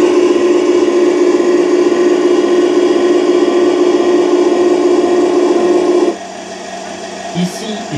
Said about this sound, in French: Donc la tourelle, je tourne à gauche.